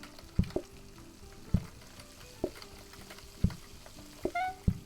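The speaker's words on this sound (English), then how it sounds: "that noise is gonna get so annoying if it keeps making that broiling sound the whole time" Sizzling, broiling kitchen sound effect from the cooking video game PlateUp, a faint continuous fry with soft repeating clicks and pops at regular intervals, without any talking.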